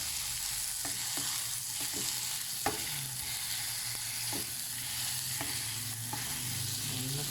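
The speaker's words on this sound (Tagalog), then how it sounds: "Pag lumambot yung kamatis, medyo dudurugin natin siya. Didiinan yung ganyan para lumabas yung sarap niya, yung katas ng kamatis." Tomatoes are pressed and crushed in a pan of sizzling pinakbet, a Filipino vegetable dish, with steady close frying hiss and soft irregular stirring and mashing taps.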